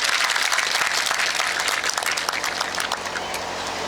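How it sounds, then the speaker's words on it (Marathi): A crowd at a farmers' gathering breaks into loud, sustained applause, thick steady clapping that holds at full strength for several seconds before easing slightly near the end. "जोरदार टाळ्या वाजू द्या."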